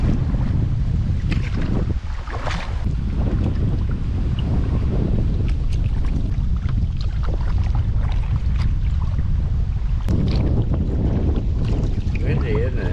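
Wind on a river crossing during a canoe trip, steady buffeting rush against the microphone with gusty swells, while people talk intermittently over it.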